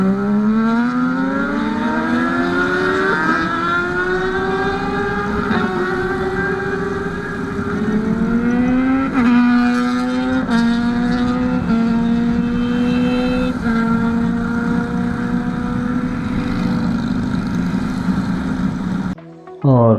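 Superbikes idling and revving at a red light, the engines rising in pitch in repeated climbing sweeps, loud and close, with no talk.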